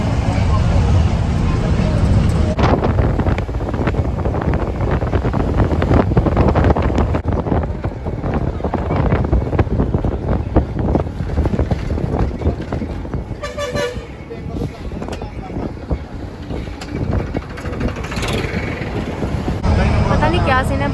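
Wind rushes into a moving bus on the road from Kaithal, a loud continuous buffeting roar with vehicle horns tooting now and then and people talking over it.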